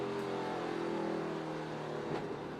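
A NASCAR Camping World Truck Series race truck at Richmond Raceway short track, its engine held at a steady high drone under throttle, with a brief surge near the end and no talk.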